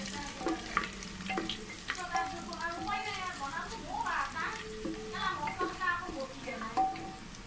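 Garam masala and bay leaves frying in a pot with browned onions for pressure-cooker chicken biryani, a steady sizzle with scattered stirring scrapes and faint background voices.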